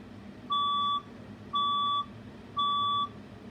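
Fire alarm test tone sounding three times in a steady rhythm, each a clean, loud half-second electronic beep separated by brief gaps, over a faint low room hum.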